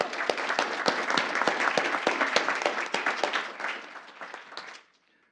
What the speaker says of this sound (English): So if we could give Greta a quick round of applause